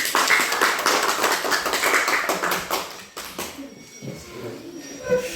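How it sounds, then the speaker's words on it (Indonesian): A classroom group applauds, a loud burst of dense, overlapping claps that thins out after about three seconds, followed by quieter room noise and a bit of talk. "Ya, kasih dulu aplaus."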